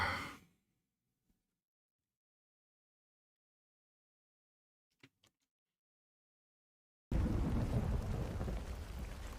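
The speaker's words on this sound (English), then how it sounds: "Rain pattering." Rain falls with thunder in a Star Wars Andor episode, arriving as a sudden loud, steady wash of noise after a long near-silence.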